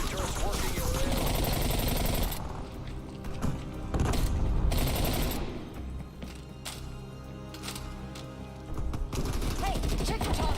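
Hostile sentry turrets in a video game fire in bursts of mechanical, rattling gunfire, loud and close, with clanking machinery and game effects underneath; a voice speaks briefly over the din.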